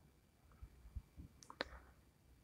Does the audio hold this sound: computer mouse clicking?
yes